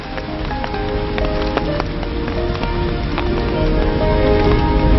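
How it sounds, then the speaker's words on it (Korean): Rain falls steadily, a dense hiss with scattered sharper drips and patters tapping on a surface, continuous and fairly loud throughout. "요 며칠 비가 자주 왔죠."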